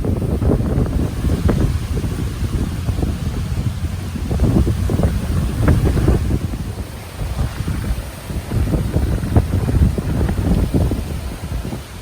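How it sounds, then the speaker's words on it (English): Strong wind buffeting the microphone beside the water at a pier in Cocoa, a continuous low roar with gusty surges and a faint wash of waves underneath, no voices. "It's a bit windy."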